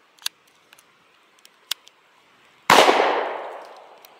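A single loud, close gunshot from a Ruger Mark IV 22/45 Lite pistol firing Norma TAC-22 rimfire ammunition cracks out alone near the end, preceded by a few small clicks and taps from handling.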